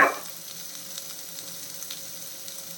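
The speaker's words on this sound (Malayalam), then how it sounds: "അപ്പം ഈ ഉള്ളി ഒന്ന് നമുക്ക് വഴറ്റിയെടുക്കണം" Shallots sautéing in a pan for a prawn roast, a steady close sizzle and faint crackle under light stirring, with no talk.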